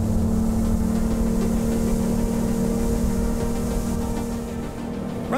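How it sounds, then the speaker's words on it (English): V6 stern drive engine of a 2018 Rinker 19QX bowrider running at wide open throttle, a loud steady droning roar with a strong low hum that holds constant throughout, no voices. "V6s aren't supposed to sound as good as a V8, but listen to that engine."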